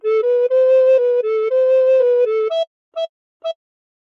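A recorder plays the opening of the Bella Ciao melody, a run of clear sustained notes followed by three short, separated staccato notes, close and solo with no other sound.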